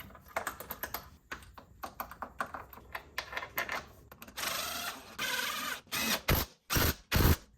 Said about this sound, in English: So all we have to do is put all the bolts back in, tighten them, and then torque them to spec.